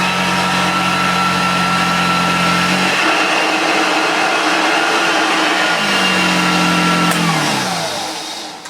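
A Hoover Junior Dirtsearcher 1354a upright vacuum cleaner runs loud and close on carpet. Its steady whine drops in pitch as it bears down on the pile, then rises again.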